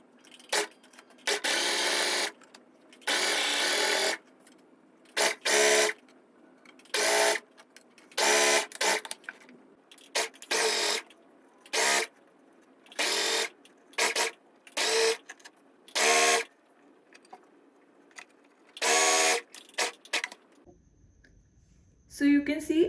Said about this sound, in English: Go ahead and do the stitching at the very corners.